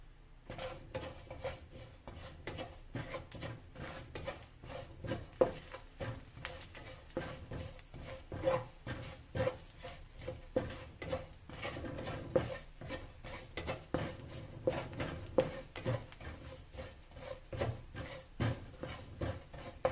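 Cumin seeds toasting in a pan while cooking tikka masala: soft, continuous rattling and scraping of seeds being stirred, with faint sizzle and occasional clinks of a utensil against the pan, quiet and close.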